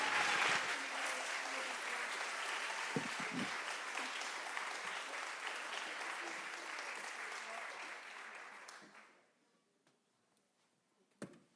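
An audience claps at a physics program event, a full, steady round of applause that holds for about eight seconds, then fades quickly, leaving near quiet with a couple of stray claps.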